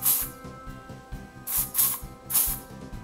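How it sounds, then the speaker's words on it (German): A can of hairspray is sprayed onto a doll's hair in three short hissing bursts over a steady rhythmic mechanical background with a faint ratcheting beat. "Dann nehmt ihr was Haarspray"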